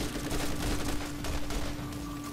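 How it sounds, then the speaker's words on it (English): Muffled gunfire from a Borderlands shootout rattles in a brief, fairly faint flurry of overlapping shots over a constant hum, with no speech. "Gotta shoot him up the rear, or at least rocket!"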